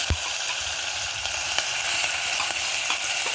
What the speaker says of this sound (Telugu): ఇప్పుడు ఇందులో నేను ఇంట్లో తయారు చేసుకున్న అల్లం వెల్లుల్లి పేస్ట్ వేస్తాను.